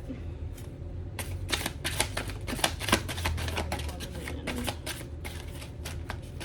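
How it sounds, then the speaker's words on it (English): Deck of cards being shuffled during a card reading, heard as dense, close riffling bursts with crisp flicks continuing for several seconds, with no talk over them. "This is hard to shuffle."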